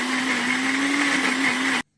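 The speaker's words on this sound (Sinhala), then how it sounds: "දැන් ආයෙත් බ්ලෙන්ඩ් කරගමු." A blender whirs steadily at full speed through a banana ice cream mixture with food coloring, loud and close with a constant hum, then cuts off abruptly near the end.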